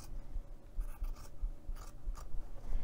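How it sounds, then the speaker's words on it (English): Scissors snip through fabric backed with Shape Flex interfacing, giving soft, close, rasping cuts in a loose rhythm over a low background hum. "And then you can just go ahead with your scissors and cut out around the Shape Flex."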